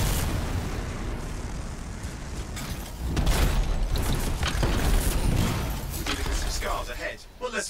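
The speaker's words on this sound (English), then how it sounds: "Contained explosion." Explosion in the video game Anthem, heard as a sustained, rumbling boom that swells around the midpoint and stays loud for several seconds before fading, with game sound around it.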